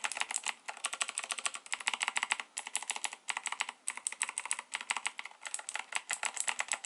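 Razer BlackWidow 2019 mechanical keyboard keys clack in quick, steady bursts of typing, close up and bright, with no one speaking.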